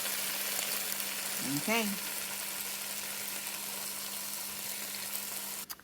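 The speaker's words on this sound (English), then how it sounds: "So while I'm waiting for the veggies to saute some more" Vegetables for a vegetarian chili sauté in a pan with a steady, close, even sizzle that runs without a break, while a voice speaks briefly.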